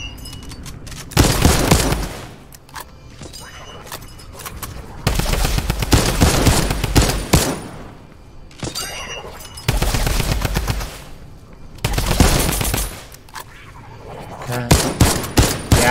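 Shotgun and rapid gunfire in the video game Fortnite, several loud bursts of shots separated by quieter gaps, with faint speech in between.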